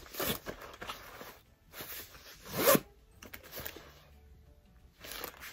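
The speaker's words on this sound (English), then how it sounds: "At the back, there is a back zipper." Zipper on the back of a Burberry polyamide bum bag being pulled in several short scratchy runs, close and fairly quiet, with small handling rustles between pulls.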